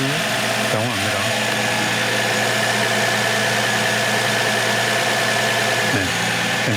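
A 2010 Renault Samsung SM7 New Art engine idles steadily and loudly up close, with a faint bearing whine from the idler pulley blended into the hum, and a voice briefly talking over it.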